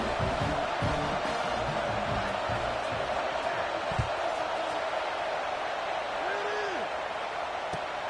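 A large stadium crowd in a college football video game, LSU vs Georgia, holds a steady broad roar in the background with brief thumps and faint chatter mixed in.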